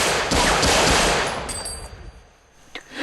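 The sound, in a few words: gunfire in a film scene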